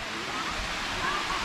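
A waterfall in Thailand pours steadily nearby, a continuous hissing rush of falling water that fills the whole stretch at an even level.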